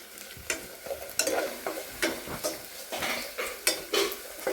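Mustard seeds frying in a pan for a rambutan pickle, with a spoon stirring in quick, regular scraping strokes against the metal over a low, steady sizzle. The sound is close by, and no one talks.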